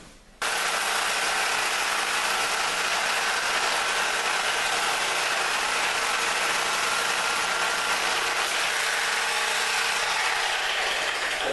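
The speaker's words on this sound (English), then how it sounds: "the screws on the toilet are rusted, so I'm going to have to take my sawzall and pop them out" A reciprocating saw cuts through rusted toilet screws during a bathroom floor repair, a loud steady buzzing drone that starts abruptly and runs without a break, close up and with no voices.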